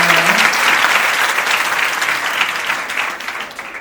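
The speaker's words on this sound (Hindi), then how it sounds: "एक बार फिर से तालियों की गड़गड़ाहट से" A crowd in a hall claps steadily for a student's birthday during a school foundation day celebration, the thick, even applause starting loud and easing slightly toward the end.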